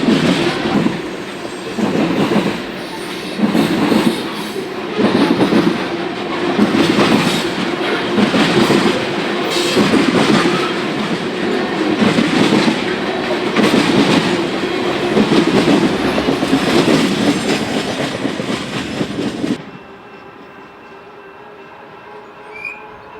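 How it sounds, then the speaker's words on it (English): A train rolls past beneath an overpass on the B&OCT near Barr Yard, its railroad cars producing a loud, continuous clickety-clack with regular rhythmic beats for about twenty seconds before abruptly cutting to quiet. "The train is passing under the South Shore's Monon Corridor"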